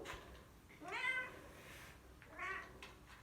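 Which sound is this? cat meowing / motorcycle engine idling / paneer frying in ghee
cat meowing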